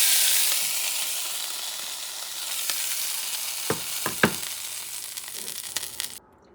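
Pepper steak sizzling in a frying pan, a steady broadband hiss of hot fat that fades gradually, with a few sharp pops and spatters toward the end.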